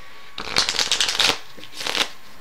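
Playing cards are riffled together in a quick fluttering burst, then a shorter second riffle follows after a pause; close and crisp, no voices.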